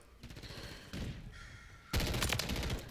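Bursts of rapid automatic gunfire from a first-person shooter using a DG-58 rifle, switching from aim-down-sights to hip fire; quieter volleys give way to a louder sustained burst near the end.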